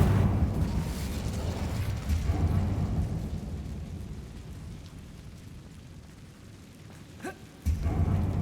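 A fiery Incendio spell cast in a Harry Potter video game: a dense, rumbling roar of flame that fades slowly, then a sharp burst near the end followed by renewed rumbling.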